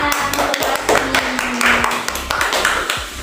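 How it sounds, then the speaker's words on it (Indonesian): Children in a classroom clapping in a quick, uneven burst of rhythmic hand claps, close and fairly loud, with a steady tone and murmuring underneath. "Tepuk tangan."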